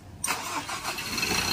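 A Ford Ranger with a misfiring, smoky engine starts after a brief quiet, a sharp crank catching into a rough, close idle that keeps running to the end.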